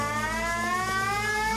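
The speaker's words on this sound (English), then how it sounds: "you might want to cover your ears at this point because you guys are new to the air raid siren" An air raid siren wails loud and close at a hospital site, its steady rising tone filling the moment with no voices.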